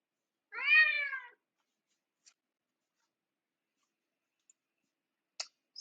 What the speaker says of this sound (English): We have a cat yelling at us.